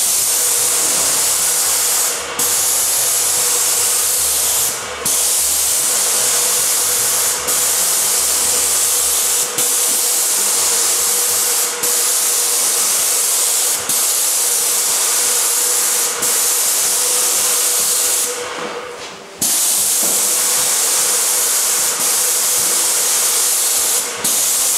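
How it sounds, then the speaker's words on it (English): An airless paint sprayer coats a new plasterboard ceiling with a loud, steady hiss that runs continuously, broken by brief pauses and one longer stop near the end. "So what I find is this is the best way to spray a ceiling."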